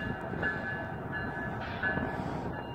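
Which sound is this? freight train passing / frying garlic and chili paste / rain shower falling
freight train passing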